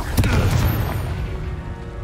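A Confringo fire spell bursts in the Hogwarts Legacy video game, a loud booming explosion with a sharp crack near the start that rumbles on in a low roar for about two seconds.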